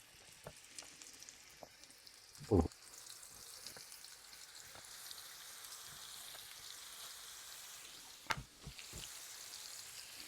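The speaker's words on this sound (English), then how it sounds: "add 1 tablespoon of butter and 1 tablespoon of olive oil to your pan. And now to that, let's add our steaks." Steaks fry in a pan of butter and olive oil with a faint, steady sizzle, broken by a couple of louder spattering crackles and a few light clicks, quiet and close with no voices.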